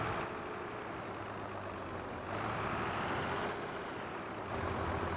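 Tractor engine from the Farming Simulator 22 game, driven slowly out of a shed on the Kallebach map: a steady low diesel drone that swells slightly in two places, with no talking.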